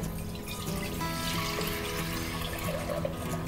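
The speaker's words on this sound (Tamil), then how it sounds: "சரி, பாலை மட்டும் முன்னாடி காய்ச்சிக்கிறேன்." Milk, one litre, poured into a pan to boil for caramel payasam, a continuous liquid rush heard close and fairly loud throughout, with no talking.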